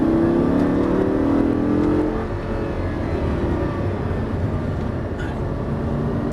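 A Lamborghini Gallardo engine pulls hard at full throttle on a track, a loud sustained roar with rising harmonics that settles into a steady, dense drone, heard alone without voices.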